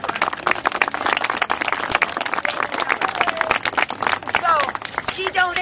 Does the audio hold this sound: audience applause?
yes